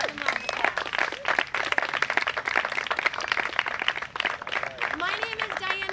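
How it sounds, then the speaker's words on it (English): A crowd claps steadily in sustained applause, dense and fairly loud, with voices mixed in throughout. "give them a round of applause."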